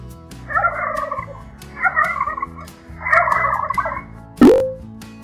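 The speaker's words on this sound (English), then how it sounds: "Turkey." A turkey gobbles in three loud, rapid bubbling bursts with short pauses between them over soft background music, followed by a brief whoosh.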